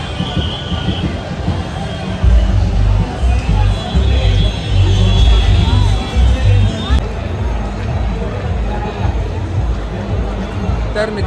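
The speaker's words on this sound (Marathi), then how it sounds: "जसजसं आपण आता जवळ जातो तसं आपली म्हणजे कार्यकर्त्यांची गर्दी आणि भक्तांची गर्दीसुद्धा वाढत चाललेली आहे" A crowd of devotees and volunteers gathers near Lalbaugcha Raja during Ganesh Visarjan in Mumbai rain, a loud dense babble of many voices with rumbling noise, close and continuous.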